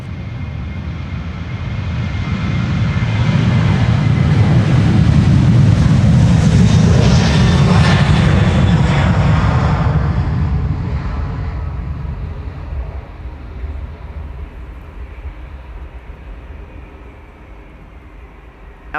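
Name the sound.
Delta airliner departing Schiphol Polderbaan runway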